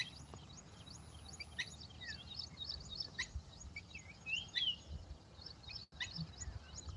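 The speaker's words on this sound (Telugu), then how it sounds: "ఇక బర్డ్స్ సౌండ్ చూడండి ఎలా వినండి ఒకసారి" Many birds chirp and tweet faintly in the distance, with quick overlapping calls over a quiet, open outdoor background of a paddy field.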